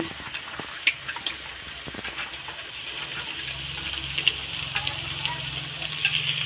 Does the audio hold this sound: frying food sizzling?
yes